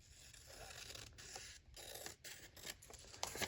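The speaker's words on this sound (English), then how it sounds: "Let me snip off this little bit of trim." Small scissors snipping off a bit of paper trim for a journal page, a string of quick close-up cuts and rasping scrapes, quiet and without talk.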